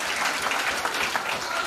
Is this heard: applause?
yes